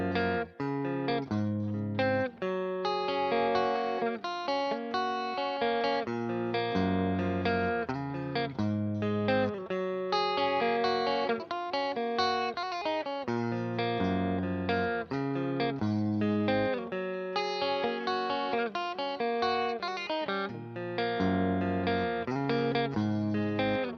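A Glarry flame-shaped electric guitar from a beginner kit plays on a clean tone from the neck pickup, position 5. Notes and chords ring steadily and evenly for about twenty-four seconds, with no talking.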